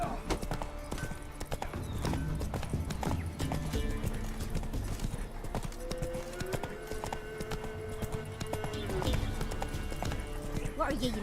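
A horse gallops in the video game Witcher 3 with rapid, rhythmic hoofbeats close by and an occasional whinny. Voices are heard in the background over the hooves.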